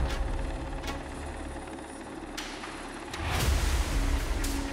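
A Finnish Border Guard helicopter produces a steady mechanical rotor and engine roar with sharp periodic thumps, swelling louder near the end, with no talk.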